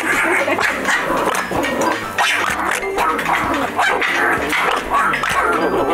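A tame domesticated fox barks and yips repeatedly at close range, loud, sharp calls over steady background noise.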